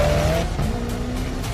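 A supercar with a twin-turbocharged V8 engine accelerates hard, its engine note loud and close, rising in pitch through a gear and carrying on as a steady roar with some tyre noise throughout.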